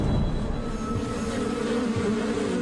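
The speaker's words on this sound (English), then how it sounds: "The bees stay around the head." A swarm of bees buzzes steadily close by, a dense, droning hum with no break and no one speaking.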